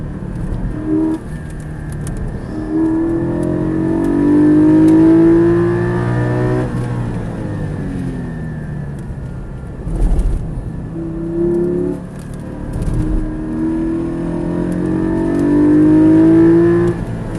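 Porsche race cars, including a 718 Spyder and an RS, lapping the Charade circuit, with engines rising and falling through gears as cars pass one after another, loud and near.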